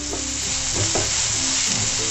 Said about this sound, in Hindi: सारी चीज़ों को हमें अच्छी तरह से सौटे कर लेना है और हमारे टमाटर को अच्छी तरह से पका लेना है।